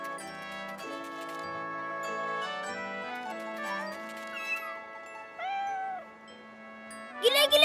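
Several cats meow in turn, with rising and falling cries close by, ending in a sharper, louder burst of mewing.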